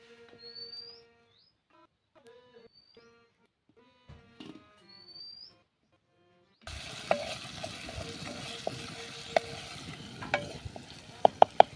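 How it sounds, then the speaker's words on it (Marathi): Green chilies and garlic drop into hot oil over a wood-fired stove and sizzle steadily, with a loud crackling hiss and sharp pops after near silence broken by faint birdsong. "तेल आपलं गरम झालेलं आहे. हिरवी मिरची आणि लसूण टाकूया."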